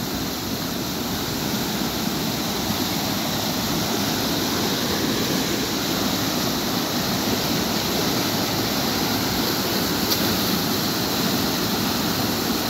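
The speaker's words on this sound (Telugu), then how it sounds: "ఓ వరద ఎక్కువగా ఉంది." Fast, heavy flood water rushing through a river where fishermen cast nets, a loud steady broadband roar that runs without break and without voices.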